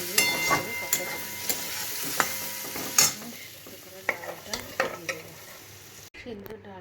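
Boiled dal frying in a pan with onion, chilli, tomato, cumin, salt and a little sugar, a soft low sizzle broken by sharp clicks and scrapes of stirring.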